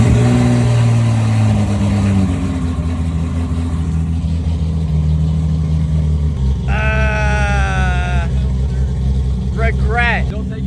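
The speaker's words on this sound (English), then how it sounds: "I'm gonna get my final cold start." A sports car engine cold start roars and revs loudly at close range with deep rumbling, while a few short higher-pitched vocal sounds break in near the end.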